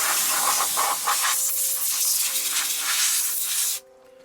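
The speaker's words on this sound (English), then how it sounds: "we're going to get a little air here in the lab. We're just going to spray this off here just a little bit" Compressed air sprays in sharp hissing bursts to blow dust off AT&T UNIX PC 3b1 expansion boards in a lab, several pulsed blasts giving way to a steady loud hiss that cuts off abruptly near the end, leaving a faint hum.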